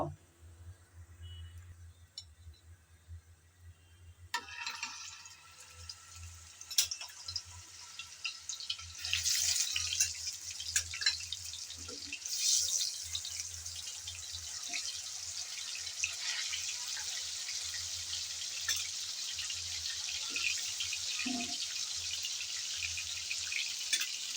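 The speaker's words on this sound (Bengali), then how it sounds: "এই যে হলুদ আর লবণ মাখানো মাছগুলো এখন গরম তেলে দিয়ে দেব।" Pangas fish coated in turmeric and salt drop into hot oil, and a soft start builds into a loud, continuous hiss of frying that carries on steadily, close by, with a faint low hum underneath.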